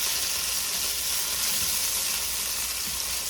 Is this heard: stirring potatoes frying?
yes